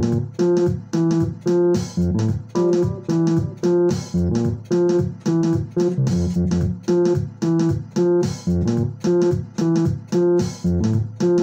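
A makossa pattern is played over a backing loop, a bouncy repeating groove with steady pulsing beats and layered chords, loud and continuous, with no talking.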